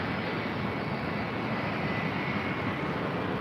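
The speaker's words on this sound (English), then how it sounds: "This is United Airlines 1431 about to take off to Honolulu" A United Airlines jet airliner roars at LAX, a steady broadband engine rush holding loud and constant throughout with no breaks.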